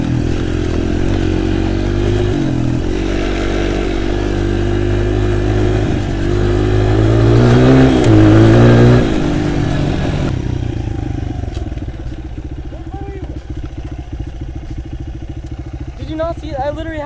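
A dirt bike on riding trails revs hard with the throttle wide open, a loud, close engine roar that swells and peaks partway through before dropping back to a lower drone as it moves off, with voices mixed in underneath.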